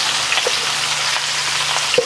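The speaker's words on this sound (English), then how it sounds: "time to get in the mushrooms and the onions" Mushrooms and onions fry in a big pan over medium heat, giving a steady, close, loud sizzle with a few faint pops and crackles.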